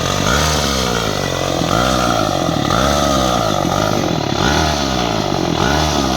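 A small, buzzy 50cc pocket bike engine revs loudly and continuously close by, its pitch repeatedly climbing and falling with each twist of the throttle.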